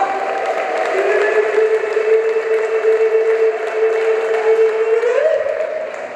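A church congregation claps for the Lord during an intercessory prayer service: dense, steady applause from many hands fills the room over a sustained droning tone and a crowd murmur, swelling slightly near the end.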